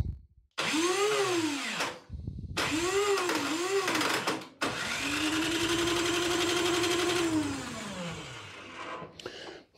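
A snowblower engine with the choke on is started with its electric starter, giving two short whirring cranking bursts with wavering pitch, then a longer steady whine of several seconds before it cuts off.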